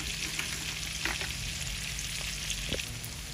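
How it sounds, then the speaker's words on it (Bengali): Onions frying in a pan, a quiet steady sizzle with a few soft clicks and scrapes of stirring against a low background hum, heard close with no one speaking. "এই যে আমাদের পেঁয়াজ ভাজা হয়ে গেছে।"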